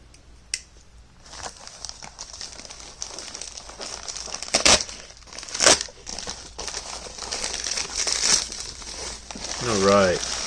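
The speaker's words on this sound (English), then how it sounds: "let's go ahead and unbox this mochi" Plastic packaging crinkles and rustles in bursts as a Dasai Futures Mochi is unboxed, with sharper crackles and handling noises close by and a voice speaking near the end.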